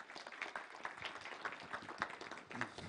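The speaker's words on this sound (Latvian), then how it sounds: "Sagaidām ar aplausiem." An audience at a university digital transformation forum opening claps to welcome the rector, a moderate, fairly quiet patter of applause with individual claps audible throughout.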